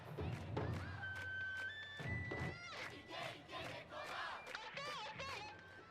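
An animated volleyball crowd in the Haikyu!! film cheers and shouts in energetic bursts, with rhythmic thumps and overlapping excited voices rising and falling over several seconds.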